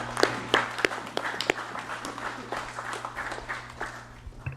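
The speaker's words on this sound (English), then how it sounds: "Please, let's give them a round of applause." Scattered clapping from a gallery audience at a legislative session, a few sharp claps early that thin into a soft, sparse patter over a steady low hum.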